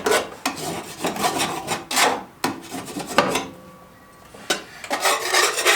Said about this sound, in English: I do after every mow like to come underneath and scrape off large chunks of the debris